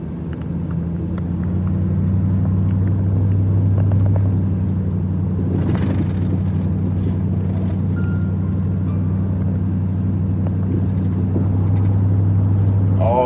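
Car interior on a drive home through fog, a loud, steady low engine and road rumble that holds throughout with a brief rise in noise partway through.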